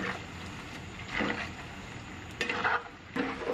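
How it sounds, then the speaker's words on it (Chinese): Radish balls get a second deep-fry in hot oil. A soft, steady sizzle runs throughout, with a few short bursts of bubbling and stirring scrapes. "把刚才炸过一遍的丸子重新倒入油锅里面进行2次复炸"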